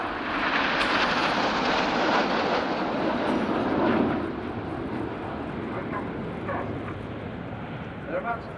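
Red Arrows advanced jet trainers flying an aerobatic formation display at an air show, a loud, steady broadband jet roar that swells and then eases slightly, with faint talk underneath.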